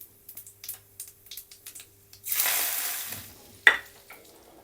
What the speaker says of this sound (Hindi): और अब हम इसको इसमें तड़का लगा देंगे।